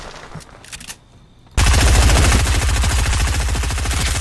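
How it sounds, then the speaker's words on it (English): Heavy automatic gunfire in the Fortnite video game erupts suddenly after a quieter stretch, continuing as a loud, rapid, unbroken rattle of shots up close. "getting shot at from behind"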